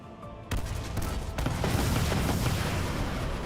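Rapid automatic gunfire from a modded weapon in Halo 3 erupts after a brief quiet moment and keeps going as a dense, loud, booming barrage to the end.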